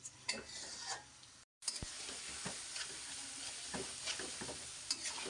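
Spices and turnip fry together in a pan for a fish curry, giving a continuous close sizzle with frequent clinks and scrapes of stirring and one brief silent gap early on.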